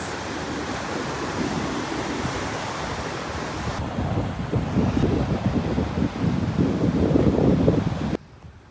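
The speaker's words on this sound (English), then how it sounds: "The mist from the oceans, like, I guess that's why they call it ocean spray, huh?" Ocean surf crashing on a California shore with blowing spray, a roaring wash of waves buffeted by heavy wind noise on the microphone, building louder before cutting off abruptly.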